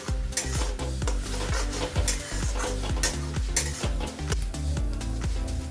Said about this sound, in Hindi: अब प्याज को हम कलर चेंज होने तक भूनेंगे। भूनते समय हम तेज आंच रखेंगे।